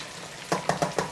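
Fish frying in a pan, a steady faint hiss broken by four sharp sputtering pops in quick, uneven succession, close and alone with no voices.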